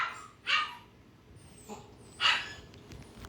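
A dachshund, called Wiener, whines and yips in two sharp high bursts separated by a pause, close and fairly loud against a quiet indoor background.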